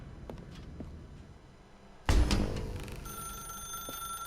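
A telephone ringing in the video game The Stanley Parable: a quiet room tone, then a sudden loud ring at the midpoint that settles into a sustained electronic tone.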